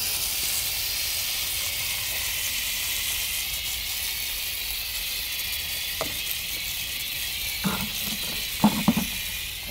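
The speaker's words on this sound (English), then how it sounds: "Rinse the wheels off, just don't get the paint." A pressure washer rinses dirty car wheels, producing a continuous, steady hiss of spraying water, with a few brief splashing or clunking spikes toward the end.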